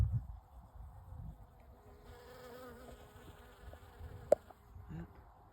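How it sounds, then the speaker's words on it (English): Honeybees buzz around blooming Star King Delicious peach blossoms, a faint steady insect drone with a sharp click partway through. "Then here we have honeybees pollinating."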